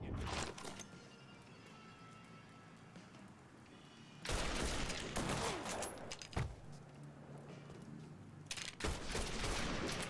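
Bursts of gunfire in Mafia III, a quieter stretch of ambient noise giving way to loud, dense volleys from about four seconds on, with sharp shots and a final burst near the end.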